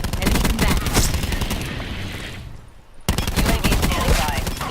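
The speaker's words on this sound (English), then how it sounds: "Let me shoot somebody else in the body." Loud rapid automatic gunfire from the video game Call of Duty: Black Ops 4 (Blackout mode on PS4) sounds in dense bursts, stops briefly near the middle, then resumes with sharp repeated shots.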